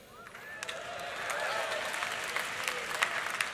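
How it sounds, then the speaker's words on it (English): A large audience at a Liberty University convocation breaks into applause and cheering, clapping swelling from a quieter start to a fuller, steady roar with scattered shouts and whistles, all at a distance. "I could have my feelings hurt by your applause and your cheer right there, couldn't I?"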